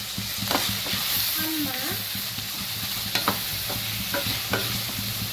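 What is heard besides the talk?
sautéing and stirring ingredients in a pan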